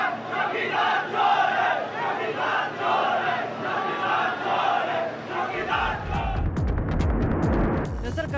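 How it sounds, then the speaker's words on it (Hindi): Dense crowd of Imran Khan supporters at a Pakistani street rally chanting 'chowkidar chor hai', a loud continuous roar of many voices with rhythmic swells, turning into scattered shouts and claps near the end. "ऐसी ही एक रैली में वहां चौकीदार चोर है के नारे लगने लगे"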